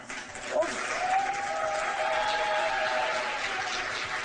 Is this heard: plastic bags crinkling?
no